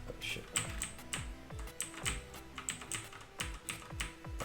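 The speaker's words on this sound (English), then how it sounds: "Touching the wrong part of the keyboard." Fast, uneven tapping on a computer keyboard, with close, crisp keystrokes in irregular bursts and a faint voice underneath.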